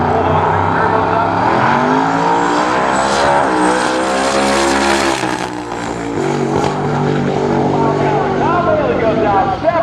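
A big-turbo Camaro drag car at Hot Rod Drag Week, Thunder Road Raceway Park in Shreveport, Louisiana, launches with a loud, rising engine howl that climbs in pitch and carries down the strip, an announcer talking over it.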